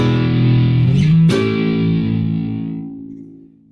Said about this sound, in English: let me go with an actual heavier distortion.